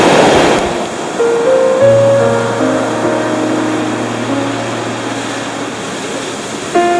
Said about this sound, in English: While I'm being careful of the waves.